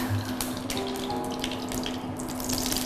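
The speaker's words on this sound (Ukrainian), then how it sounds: "Ой, як шкварчить." Steady crackling and hissing of rendered lard frying in a hot pan, with a little water in the pan, continuous and fairly close, with no talking.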